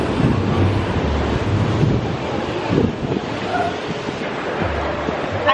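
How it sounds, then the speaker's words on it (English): Ocean waves wash onto a beach in El Salvador, a steady broadband surf roar with wind buffeting the microphone and faint low rumbles throughout. "Enjoying the beach."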